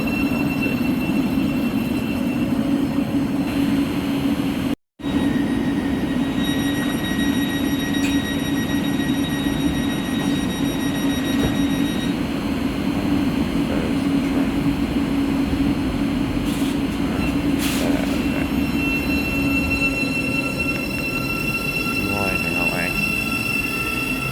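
A train slowly crawls into Welham Green station on the East Coast Main Line, giving a steady low rumble and faint high squeals and tones from the wheels throughout, fairly loud and continuous.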